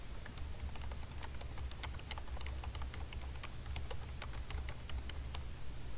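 Rapid, steady typing on a computer keyboard, with dense, irregular clicks of individual keystrokes running continuously over a low background hum.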